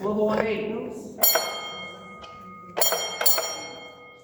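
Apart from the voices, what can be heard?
mine bell signal rung once then twice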